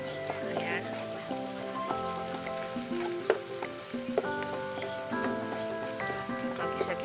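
Garlic sizzles in a pan with softened onion for a creamy chicken mushroom dish, a steady close crackle running throughout beneath tonal background sounds, with no talking.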